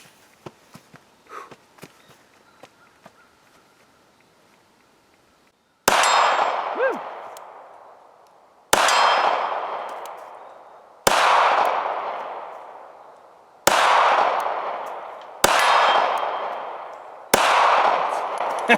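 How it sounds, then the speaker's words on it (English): A Ruger LCP II .380 pistol fires at a steel gong: six sharp reports, each followed by a loud metallic ring that fades out, coming every two to three seconds after a quiet stretch. "it's hitting kind of low, so I had to kind of adjust, but hit the gong, pretty good"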